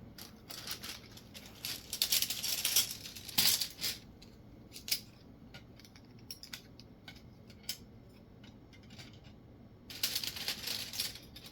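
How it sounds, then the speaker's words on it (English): Ingenious game tiles rattle and clack against each other as they are shuffled in a bag, with bursts of clicking at the start and end and sparser ticks between, close and fairly quiet. "The tiles that I had are then placed in the bag and shuffled with the other tiles"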